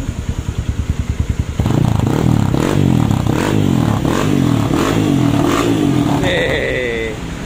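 A 2021 Kawasaki KLX D-Tracker motorcycle fitted with a No Reform Torch aftermarket exhaust idles with a rapid, lumpy thumping, then revs up hard into a loud, sustained, throaty roar that holds close to the microphone.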